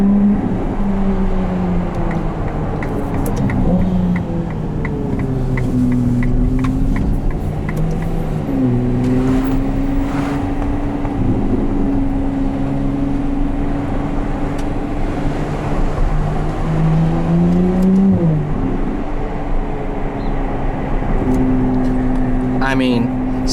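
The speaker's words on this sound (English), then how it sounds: "so they call this the Piccolo V12. And guys, does that not sound like a V12?" A 2022 Ferrari 296 GTB engine pulls hard through rising and falling revs with gear changes, a loud droning tone heard from inside the cabin while someone talks over it.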